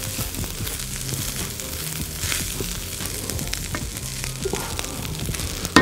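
Onion and garlic frying in a pan while being stirred, a steady close sizzle with scraping stir strokes throughout and a sharper clatter at the end.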